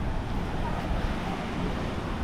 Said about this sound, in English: Waves are a little bigger today